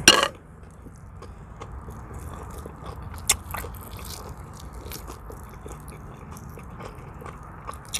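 Smoked chicken leg eaten by hand in a mukbang, close crunchy bites and wet chewing with scattered crackles after a loud opening bite.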